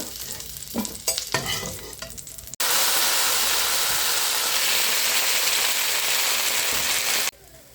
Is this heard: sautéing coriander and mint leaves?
yes